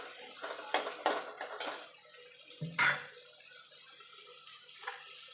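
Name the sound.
chopped tomato added to the pan for a boal fish curry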